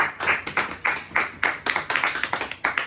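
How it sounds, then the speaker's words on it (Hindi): An audience claps in a quick, uneven rhythm, sharp distinct claps from a modest group coming close together and fairly loud, with no talk over them. "मैडम की ताली बनता है"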